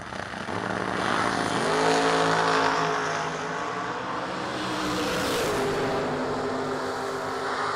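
A drag race car launches at full throttle, its engine roaring loud and close as the pitch climbs steadily, then holds a sustained high wail as it pulls away.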